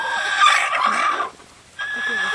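Chickens cluck in alarm, loud and busy for over a second, then drop out briefly before the agitated calling picks up again.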